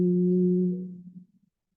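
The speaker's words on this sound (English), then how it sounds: "simply keep the lips closed as you introduce a humming sound" A steady closed-lip hum during Bhramari pranayama breathing, one sustained low tone held for about a second, then fading and wavering as the breath runs out, close and alone with no talking.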